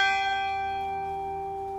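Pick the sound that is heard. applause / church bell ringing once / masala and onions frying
church bell ringing once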